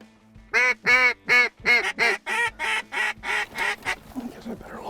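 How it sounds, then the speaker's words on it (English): Wigeon ducks flying in over a wheat field give a loud, close run of about a dozen evenly spaced quacks, with the calls softening and overlapping toward the end. "We got our ducks coming."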